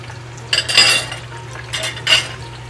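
A breaded pizza burger fries in a pan with a steady low sizzle, and a few close clatters of a utensil against the pan come in two short bursts over it. Nobody speaks.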